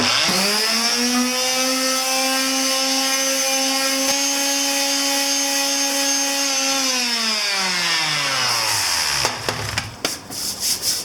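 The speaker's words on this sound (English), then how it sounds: "we're just using 120 grit sandpaper, and do the same thing with this one" A plastic part from a 1983 Honda CB1000 C Custom is sanded with 120 grit sandpaper. A steady, close motor whine winds down, followed by short scraping rubs.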